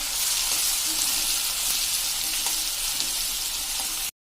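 Chopped onions and ginger frying in a pan, a dense, steady close hiss of sizzling oil that holds level throughout and then cuts off abruptly.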